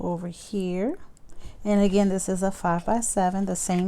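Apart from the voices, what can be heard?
No distinct noise like a dog, phone or traffic.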